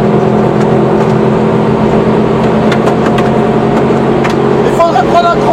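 A Subaru GC8 on the Dijon-Prenois circuit accelerates at full throttle in fifth gear, its engine a loud, steady drone under in-car coaching talk.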